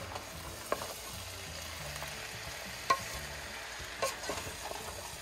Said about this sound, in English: we're gonna go ahead and add the corn in there as well. Give that a stir.